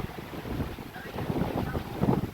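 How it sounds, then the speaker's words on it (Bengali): A large oil tanker ship heads toward the Haldia dock complex on the river, heard as a low, distant rumbling drone mixed with wind buffeting the microphone outdoors on the riverbank. "দেখুন দূরে একটা জাহাজ যাচ্ছে।"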